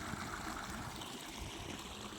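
Faint, steady rush of water flowing in a stream below, a soft continuous gurgle heard from a little distance with no talk over it.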